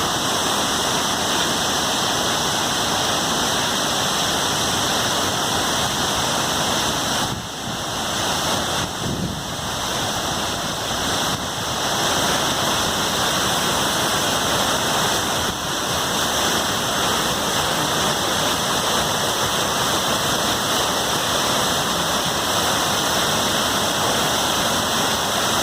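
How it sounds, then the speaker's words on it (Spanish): Quetzalapan waterfall at Zacatlán pours steadily in a loud, close, unbroken rush of falling water, with spray-like hiss filling the whole scene and no voices over it. "Cascada de Zacatlán."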